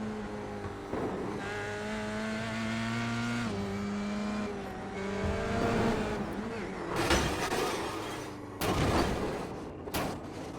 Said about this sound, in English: So you can hear he lifts off the throttle about here